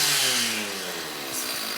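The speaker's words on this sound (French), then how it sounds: "il n'y a pas de chaîne sur la tronçonneuse présentement" A chainsaw with no chain fitted revs loudly at full throttle, a steady buzzing engine drone with a falling pitch that settles into a continuous idle-like whine, close and alone with no talking.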